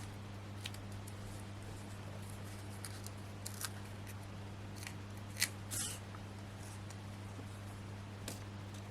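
Scissors cut foam craft pads in half, a few quiet snips and rustles spread across a soft background hum, with no talking.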